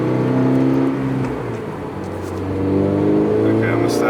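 A 2022 Subaru BRZ or Toyota GR86 engine pulling through the gears while driving, its steady hum easing off around a shift then climbing again, heard from inside the cabin with a person talking over it.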